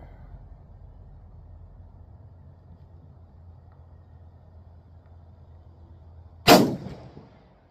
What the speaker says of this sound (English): Now that first shot ended up right in the bullseye